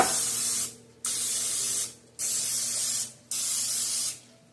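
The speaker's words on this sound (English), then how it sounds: "You can use the whatever spray you want. But just spray them good." Cooking spray hisses from a can onto a muffin pan in four bursts of about a second each, separated by short pauses, close and clear.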